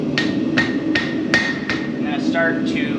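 Hammer blows forging hot steel mounting hardware for a post vise, blending corners and edges: five or six sharp ringing strikes in a steady rhythm, close and loud, followed by fainter taps.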